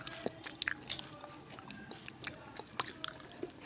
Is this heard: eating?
yes